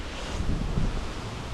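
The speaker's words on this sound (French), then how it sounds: "La pluie vient, part, le vent vient, part." Wind gusting outdoors during a hurricane in Florida, a steady broadband roar with low buffeting against the microphone, swelling slightly mid-way, with no voices.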